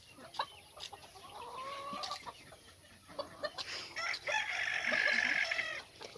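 Pullets and bantam chickens cluck and squawk on a hobby farm, with a rising, persistent outburst of clucking near the end and scattered short calls throughout.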